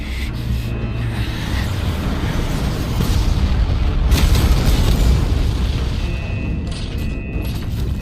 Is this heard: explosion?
yes